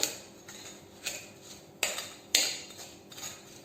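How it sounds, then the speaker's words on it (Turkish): Lemons and lemon peels being crushed with sugar in a bowl, heard as several sharp clinking knocks of a utensil against the dish at an irregular rhythm over a quiet background. "Ezelim. Biraz limonun kabuklarını böyle mıncıklayalım."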